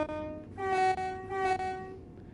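Electrostar electric train horn in the game Train Sim World 5 on the London Overground North London Line: two loud, steady two-tone blasts in quick succession, clean against a quiet background.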